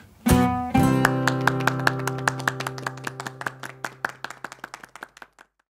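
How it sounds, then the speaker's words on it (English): Hands clap in a steady rhythm along to an acoustic nursery rhyme, starting after two strummed chords that ring out and fade while the claps keep time, growing softer toward the end. "If you're happy and you know it, clap your hands."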